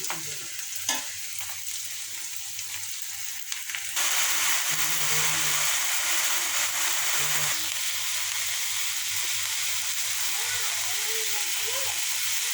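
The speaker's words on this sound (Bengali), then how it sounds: "হয়ে গেল তেলা কচি শাক, তেলা কচুর পাতা। এভাবে ভাজি করলাম।" Taro leaves (tela kochu shak) fry in hot oil with a loud, steady sizzle and hiss, stirred now and then with scraping, close up, the sizzle growing much louder partway through.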